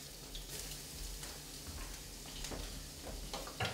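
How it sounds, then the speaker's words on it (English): Shrimp and scallops frying in a pan with truffle oil, olive oil and basil, giving a steady, faint hiss and sizzle with small crackles throughout and no talk. "So I got my shrimp going in."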